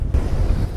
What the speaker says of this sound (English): It's ever so windy here.